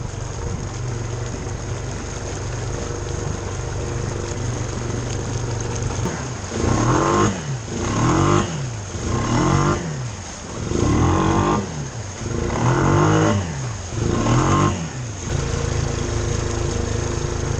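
A Honda Fourtrax 300 ATV engine idles steadily underwater in a lake, joined midway by rhythmic bursts of bubbling and gurgling that pulse roughly every second, as if exhaust is venting through water.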